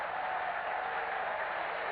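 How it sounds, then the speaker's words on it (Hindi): Sustained applause from a crowd honouring saints at a Bhagwat Katha religious gathering, a steady dense clapping wash that stays even and fairly loud throughout, with no voices above it. "जोर से तालियों के साथ उनका मान सम्मान।"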